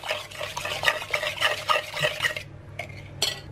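Milk being mixed into a coconut flour batter in a bowl, with a steady run of close, scraping stirs and light clinks for about two and a half seconds, then a brief pause and a couple of final strokes.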